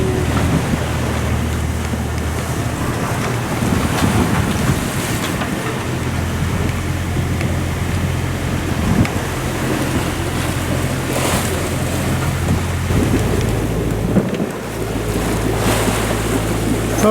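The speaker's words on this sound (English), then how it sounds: "as you see how the waves are crushing against these rocks" Ocean waves crash against rocks during a night storm at sea, heard from a sailboat as a constant loud roar of surf with wind buffeting the microphone and no talking.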